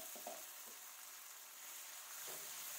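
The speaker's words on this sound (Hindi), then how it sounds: "टमाटर डालकर भी हम इसको भून लेंगे" Chopped tomatoes frying in a pan with ginger and garlic give a soft, faint continuous sizzle with a couple of brief stirring knocks.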